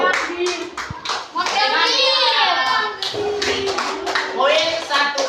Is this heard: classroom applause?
yes